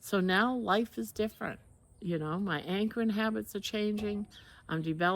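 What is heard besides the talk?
No everyday noises stand out.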